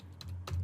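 Close keystrokes on a computer keyboard, two short bursts of clicky typing over a low steady hum, with no voices.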